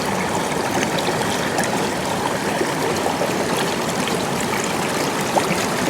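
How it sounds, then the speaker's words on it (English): Water surging through a gold sluice box set at a slight tilt and fed with quarter-inch classified bedrock material, a steady loud rushing stream with no let-up and no voices. "The water's surging really bad,"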